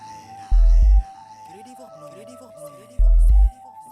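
A vocal in FL Studio runs through a delay effect alone, its phrases echoing back in repeated short copies. Two heavy low thuds punch in early and late in the passage.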